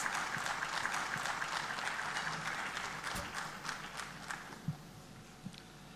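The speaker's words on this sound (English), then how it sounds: "a big round of applause for Avinash Pandey as he delivers the inaugural address" Audience at a summit applauding for a guest about to give an inaugural address, a steady, fairly faint wash of clapping throughout with a few sharper isolated claps toward the end.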